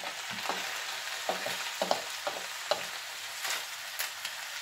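Chopped cucumber, pepper, onion and tomato sizzle in a frying pan while being stirred, with a string of quiet scraping strokes repeating over the steady frying hiss.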